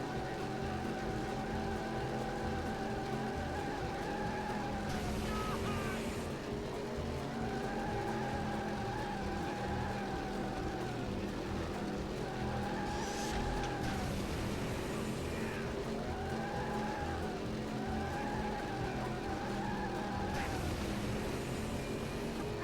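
Race cars in the game Cars: Mater-National, in the final story race at Stadium Race 3 against Giovanni: engines drone steadily throughout, with several rising and falling pitch sweeps and occasional brief noisy bursts like tire skids.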